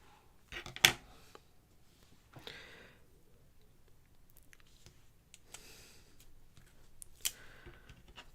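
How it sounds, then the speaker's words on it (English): Scissors snip apart craft material in a few sharp, close cuts, with a loud first snip followed by quieter clipping and handling noise, no talking. "So let me cut this apart without cutting my finger."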